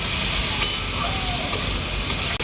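Soy chunks and potatoes fry in a pan of spiced masala, making a steady, loud sizzling hiss with faint stirring scrapes and a few soft clicks, no voices.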